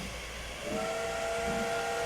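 The steam whistle of a locomotive on a heritage railway run sounds as one sustained, loud, hissing blast that holds steady over steam noise without any talk.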